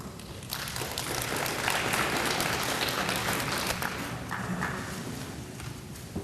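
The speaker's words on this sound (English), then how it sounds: "We didn't have a winner and y'all clapped." A crowd at a Relay for Life survivor dinner claps for several seconds, a dense, sustained patter of many hands in a hall, no talking over it.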